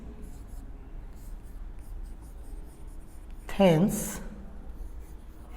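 A teacher writes English words on a board in a classroom, with one brief, distinct stroke of writing near the middle over a quiet room, and a voice speaking briefly at the same moment.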